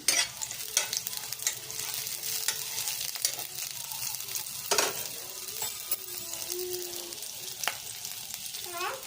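Soft, steady sizzle of chopped onion and green chili frying in a pan, quiet hiss punctuated by occasional clicks and scrapes of stirring, no talking over it.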